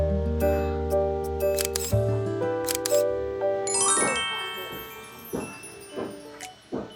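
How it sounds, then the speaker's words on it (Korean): Several camera shutter clicks and faint electronic chimes ring out in a restaurant in Cebu, Philippines, set among background music, with a few sharp clicks near the end. "지혜 엄마 여기서 사진 좀 찍을게"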